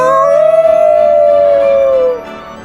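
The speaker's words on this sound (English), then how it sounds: "Listen, something's howling." A single long, loud howl from a Halloween read-aloud story rises and holds its pitch for about two seconds before breaking off, with a faint tail of background sound.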